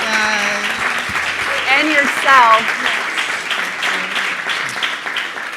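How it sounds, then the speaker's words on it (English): Audience applause for a Women in Tech panel at CES 2019, a sustained crowd clapping that swells and fades over several seconds, with people talking over it. "Let's give them a round of applause."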